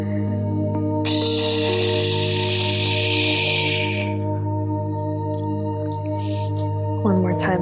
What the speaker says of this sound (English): When we round, we're going to push out through the mouth.